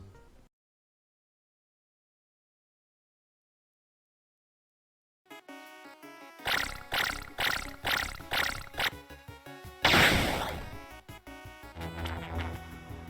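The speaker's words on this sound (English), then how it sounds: "I also have a buzzing sound for my dissolve effect" Loading sounds in an indie pixel-art video game: after a long silence, a run of rhythmic electronic pulses builds up, then a loud buzzing burst for a dissolve effect, followed by softer tonal sounds.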